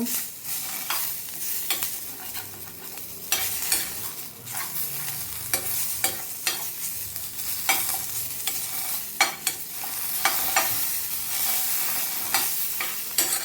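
Dried fish frying in a pan for a Tamil curry, with a steady close sizzle broken by repeated scraping stirs of the spatula, loud and continuous with no talk.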